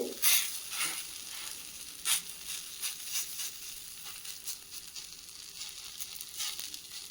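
Ragi adai batter sizzles on a hot dosa pan, a steady close hiss of frying with occasional sharper crackles and pops, heard alone.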